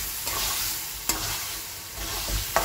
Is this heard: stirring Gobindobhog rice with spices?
yes